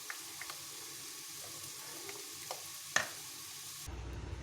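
Kadhi batter mixed with water for Punjabi-style kadhi pakora is being stirred, a soft, quiet scraping and swishing with a few faint clicks against steady low background noise, no voices.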